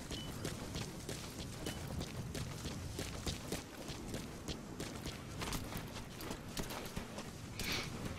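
Horse hooves in Metal Gear Solid V, a quick, even series of clip-clop beats, fairly faint against steady game ambience, with no talking.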